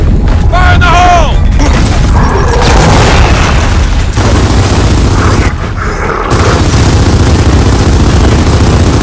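Frag grenade explosion in the shooter game Gears of War 4, a very loud booming blast amid continuous heavy gunfire and combat noise, with clipped, dense low rumble throughout.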